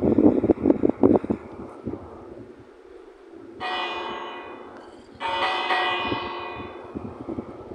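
Bell ringing inside a Minecraft world, two bright sustained chimes that each ring out and slowly decay, preceded by blocky clicking game sounds and a low wind-like hum.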